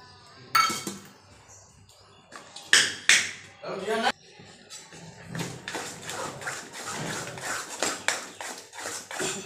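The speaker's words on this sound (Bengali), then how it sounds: "চামচ দিয়ে ঘুটে নেব।" Greens being mashed and stirred with a spoon in a pot, irregular metallic clanks and scraping taps of varying loudness, close by, with a voice speaking now and then.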